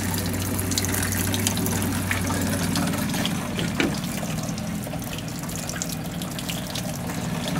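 A small 12 volt water pump, wired to a battery charger, runs outdoors feeding a makeshift sink, giving a steady broadband rush of flowing water over a low motor hum for the whole stretch, close and constant.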